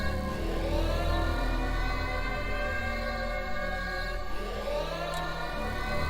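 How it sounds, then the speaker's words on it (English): Air raid sirens wail across an Aperture facility under bombardment in a Portal 2 custom map. Several layered tones rise and fall in long sweeps, loud and continuous, with no voices. "air raid sirens."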